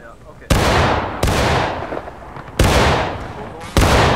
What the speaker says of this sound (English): Prepare to fire by file from the left.